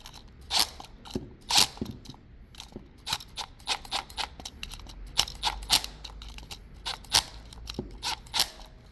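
A screwdriver tightens the terminal screws on a Sprecher + Schuh CS7-PV auxiliary relay, giving close, irregular bursts of small clicks, ratcheting ticks and metallic scrapes with brief pauses between turns, and no talking.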